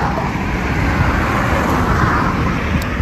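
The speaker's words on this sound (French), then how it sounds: "il y a des voitures qui passent, il y a beaucoup de bruit" Cars passing on a street in Barbados, a continuous broad traffic roar with low rumble swelling and fading as vehicles go by, fairly close and loud, with no voices.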